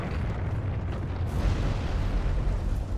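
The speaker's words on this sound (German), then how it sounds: "Was hat er eigentlich für einen wilden Bogen? Der explodiert ja." An exploding bow attack in Dark Souls 3 sets off a sustained, rumbling blast, with a dense low roar and crackle that fills the whole stretch and swells slightly partway through.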